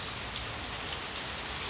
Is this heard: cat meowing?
no